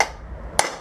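Two sharp metallic hammer strikes ring out a half second apart, the second bright and clanging, close by.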